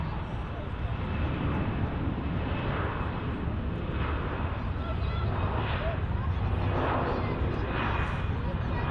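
A Lufthansa Airbus A320 jet on runway 08 left at Munich Airport, heading for Dusseldorf, makes a steady, continuous broadband engine roar at moderate distance with no clear breaks, with faint voices in the background.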